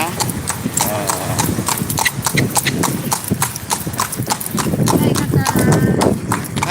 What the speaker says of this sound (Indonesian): Tuh bunyi suara kuda ya